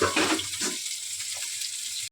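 Pieces of fish frying in a pan, with a steady close hiss that stays even throughout and a brief burst of louder spatter at the start.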